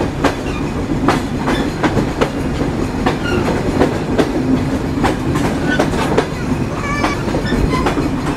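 The Betna Commuter train runs through Daulatpur railway station in Khulna, loud and close, with a steady rumble and regular clickety-clack beats of wheels over rail joints, plus faint squeals near the end.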